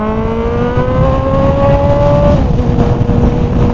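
Car fitted with a booster plug accelerating hard, engine note rising steadily then dropping at a smooth gear shift, loud and close throughout.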